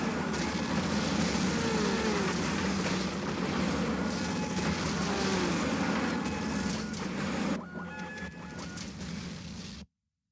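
Helicopters in the James Bond video game NightFire give a loud, continuous engine and rotor roar that fills the scene, then drops away abruptly near the end before cutting to silence.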